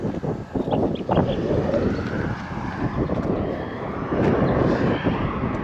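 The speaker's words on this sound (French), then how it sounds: "Ah putain c'est le vent." Steady wind buffets the microphone with a constant low rumble and roar throughout, and a voice speaks briefly near the start.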